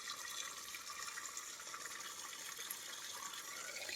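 Spring water pours steadily from a pipe at a repaired hillside spring on a farm lot, a continuous bright splashing rush that stays even and close for the whole moment, with no voices.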